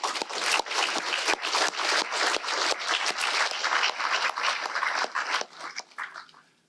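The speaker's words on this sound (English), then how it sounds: "can we please give a huge round of applause for the speakers and wish them good luck" A university audience gives a warm round of applause to the speakers of a three minute thesis competition, dense steady clapping filling the room before fading out near the end.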